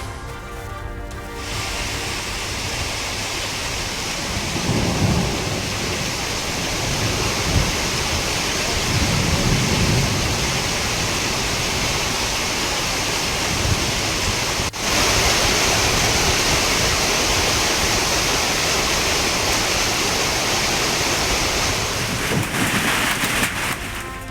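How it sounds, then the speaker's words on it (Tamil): Heavy rain pours down with strong gusting winds around Valparai in Coimbatore district, a dense, loud, continuous roar of downpour with surging gusts and deep rumbles throughout. "கோவை மாவட்டம் வால்பாறை சுற்றுவட்டார பகுதிகளில் பலத்த சூறை காற்றுடன் மழை."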